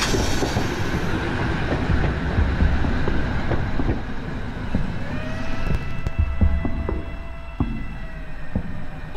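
A historic museum railway train on the Pollo line between Mesendorf and Lindenberg in the Prignitz rolls past close by, with a continuous rumble, rhythmic wheel clicks and a few metallic wheel squeals. No one speaks.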